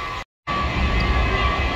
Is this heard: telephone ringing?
no